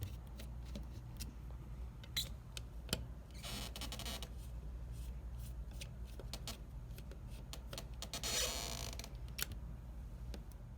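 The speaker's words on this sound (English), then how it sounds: "Now you're going to remove these two screws that are holding in this top board." Small screws being removed from the top board of a DJI Spark drone, heard as quiet close clicks and ticks of a screwdriver with two brief scratchy bursts of handling.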